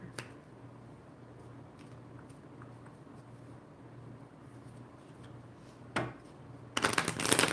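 Tarot cards are shuffled in a soft, steady riffle, then a sharper burst of louder shuffling near the end; close by, no voices.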